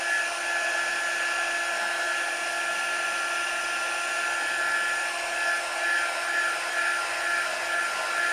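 A dryer blows steadily on a craft project, a loud, continuous high-pitched whine and airy rush that holds unbroken for several seconds.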